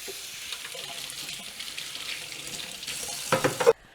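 Running tap water splashes into a kitchen sink while hands are rinsed, a steady close wash that ends in a brief louder burst before cutting off.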